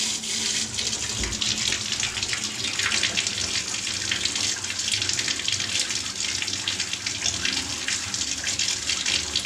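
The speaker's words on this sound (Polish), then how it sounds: "Dajmy wody." Water pours steadily into a blocked kitchen sink and bathtub drain pipe, a continuous rushing and gurgling flow that stays even throughout.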